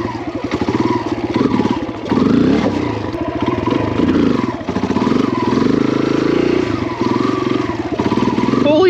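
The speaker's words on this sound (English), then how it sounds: "That was my longest wheelie ever." A dirt bike revs hard and steadily through a long wheelie on an off-road trip, its close, loud engine note rising and dipping over about nine seconds with scraping clatter underneath.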